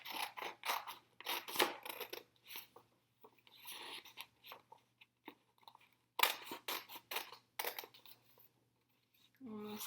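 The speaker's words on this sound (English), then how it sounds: "And then I'm going to cut out my other triangle piece." Scissors cutting out a paper triangle, a series of close crisp snips and paper rustles in bursts with pauses, over a low steady hum.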